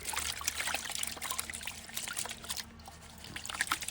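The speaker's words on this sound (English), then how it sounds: "this is my final last little bit to pan out." Water trickles and splashes softly in a gold pan while pay dirt is washed out, a quiet, steady dribbling with small irregular splashes throughout.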